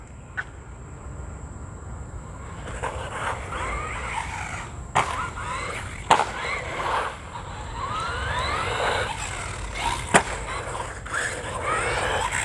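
A RIAARIO 1:14 brushless RC monster truck drives across a concrete skate park, its whining motor rising and falling with sharp knocks and clatters as it hits ramps and lands jumps, close and fairly loud.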